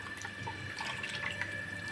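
Water runs quietly from a tap into a vessel in a home kitchen, being filled to soak tamarind for a traditional stew, a faint, steady trickle with small splashes.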